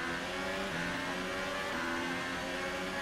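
Formula One race car at the Belgian Grand Prix in F1 2018, engine held at a steady high-pitched wail under full throttle, then a slight shift in pitch as it keeps accelerating, loud and continuous.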